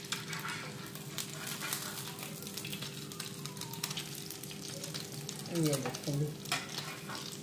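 French toast fries in a pan, giving a steady loud sizzle with stirring and scraping noises and a brief clatter, while someone speaks over it.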